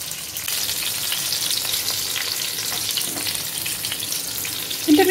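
Tomatoes and cashew nuts frying in a pan make a continuous close hiss of sizzling oil that holds steady, with a brief stir or clatter near the end.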